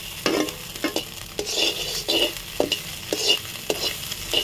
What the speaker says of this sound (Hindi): मछली के संग में अंडा मछली भुंजड़ी और अंडा भुंजड़ी दोनों संगवारी साथ में